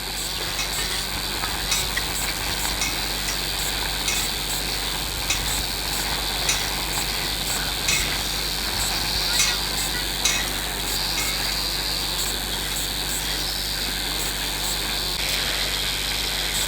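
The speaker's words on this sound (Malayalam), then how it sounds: "അതുകൊണ്ട് ഞാൻ എളുപ്പം ഒന്ന് ഇളക്കി കൊടുക്കട്ടെ." Onions, ginger and garlic frying in a pan while being stirred for a fish curry, a steady loud sizzle with faint scraping strokes running throughout, no talking.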